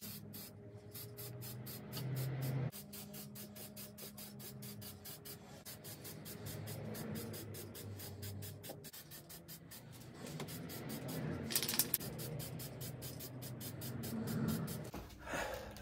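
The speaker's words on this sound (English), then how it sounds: "So let's get the coats of white on." White spray coat going onto a candy piece: hissing aerosol bursts in quick repeated pulses, close and steady, over a low background hum, with no talking.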